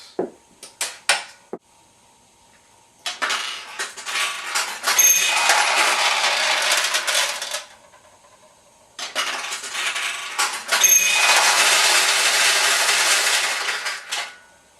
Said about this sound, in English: That loud second noise you heard was the supply tray refilling the recycle tray.